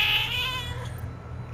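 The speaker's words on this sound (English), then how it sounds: "That's my cat." A pet cat meows close by, one drawn-out cry that fades over about a second, over a steady low hum in the background.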